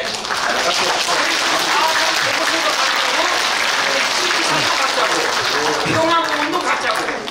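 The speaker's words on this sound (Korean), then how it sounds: "박수 칩시다." An audience at a talk on the Jeju 4.3 incident breaks into sustained applause, dense clapping filling the room with some voices mixed in.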